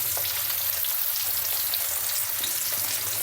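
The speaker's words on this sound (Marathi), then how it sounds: "आता दोन मिनटं एका साईडने फ्राय करायचं आणि नंतर पुढचे दोन मिनटं दुसऱ्या साईडने फ्राय करायचे" Bangda mackerel and pomfret pieces fry in oil in a pan over a medium flame, a loud, close, continuous hissing sizzle with fine crackle that holds steady throughout.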